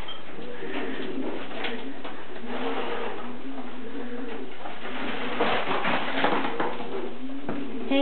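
A pet pigeon-like bird coos steadily nearby, its low, soft throaty calls repeating in a rolling rhythm over a constant background hum, with no one speaking.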